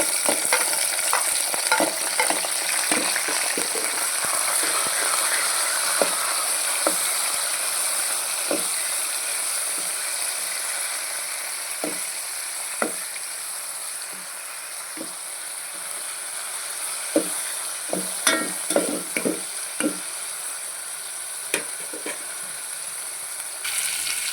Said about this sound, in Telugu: వీటిని ఇలా ఫ్రై చేసుకోవాలండి.